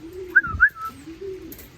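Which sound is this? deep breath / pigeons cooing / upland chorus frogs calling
pigeons cooing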